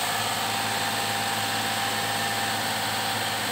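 A steady engine of a Daihatsu Xenia 1.0 idles on and on, a low droning hum with a faint vibration and no other sounds over it.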